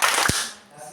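Children clap their hands in a mosquito-swatting clapping game, a single sharp, loud clap standing out briefly against background noise.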